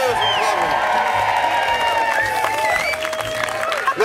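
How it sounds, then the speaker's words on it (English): A crowd at a 2009 Today FM Puc Fada ski-trip event applauds and cheers for Maria from Cavan, dense clapping mixed with whoops and shouts, loud and close with voices throughout. "So a big round of applause for Maria from Cavan."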